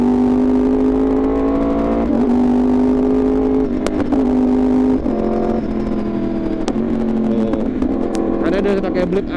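A Yamaha R1 60th Anniversary sport motorcycle engine revs loud and close, its tone climbing and dropping through several gear changes and throttle blips while a voice talks over it.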